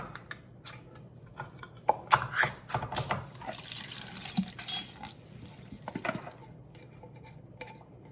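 Running tap water rinses canned jackfruit in a kitchen sink, splashing and spattering irregularly against the fruit and basin with drips and clatter, fairly close.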